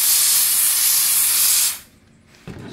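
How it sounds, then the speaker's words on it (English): A steam cleaner releases a loud, steady hiss of steam for nearly two seconds, then cuts off abruptly, leaving a quiet room and a faint knock near the end. "Sometimes a puff of water will comes out from the Sharky if the steam is not ready"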